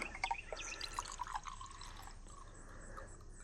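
Rinseless wash concentrate pours into a measuring cup, a faint trickling splash with a few small drips near the start, quiet and close, fading to a soft wash of liquid without any voices.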